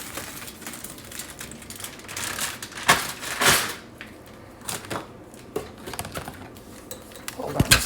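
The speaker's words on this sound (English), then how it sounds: "I'm going to use aluminum foil here to cover it." Aluminum foil crinkles and rustles as it is pressed over a pot of noodle casserole in irregular bursts, with scattered clatter of kitchenware and a person talking at times.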